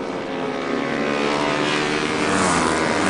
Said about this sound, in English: Pushing the rev count down those Apache RR310.